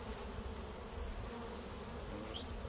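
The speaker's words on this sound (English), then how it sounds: "Don't try to get every single last bee." Honey bees from a newly installed package buzz steadily around a hive, forming a soft, continuous swarm hum with no voices.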